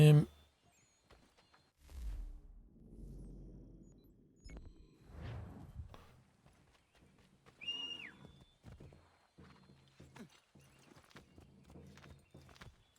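Horse hooves clop along at a walking pace in Assassin's Creed III, soft and fairly close, with a few scattered swishes and faint movement sounds around them.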